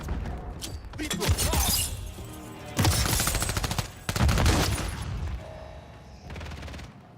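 Bursts of rapid gunfire and sharp impacts from a shooting video game come in several loud clusters, with brief pauses between them and faint voice underneath.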